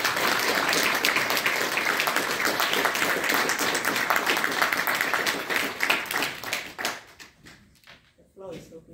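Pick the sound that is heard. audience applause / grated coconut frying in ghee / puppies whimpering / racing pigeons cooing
audience applause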